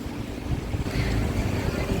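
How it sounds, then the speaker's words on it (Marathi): Cool wind blowing steadily outdoors on a journey to a temple, a continuous low rumbling gust across the microphone that holds loud and constant throughout. "इतका मस्त वारा सुटला आहे, गार वारा"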